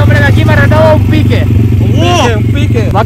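A loud, steady engine of a small homemade motorcycle idles and rumbles up close while a person talks over it.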